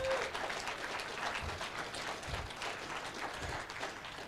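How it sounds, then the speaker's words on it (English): An audience applauds during a conference closing talk. A faint, distant wash of clapping carries on evenly for a few seconds. "Round of applause for whoever that torrent person is."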